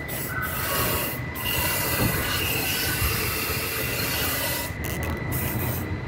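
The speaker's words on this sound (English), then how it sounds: "I'm gonna hose this inside this frame to cover any bare metal that needs coated inside of there." Cavity wax sprayed through a 360-degree nozzle inside a truck frame, a steady loud hissing spray with a few brief pauses.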